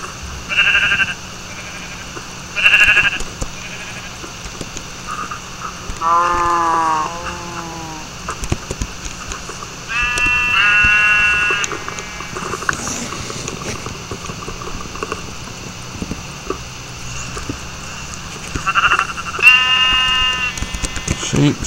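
Sheep bleat repeatedly in a video game, several wavering cries spread across the scene at moderate volume over a steady low background hum.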